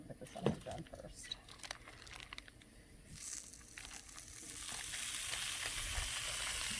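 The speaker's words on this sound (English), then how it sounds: "I think I'll put the sausage on first." Sausage lands on a hot outdoor griddle and begins sizzling, the frying hiss swelling steadily and growing louder after a few seconds of handling noises, with someone talking quietly nearby.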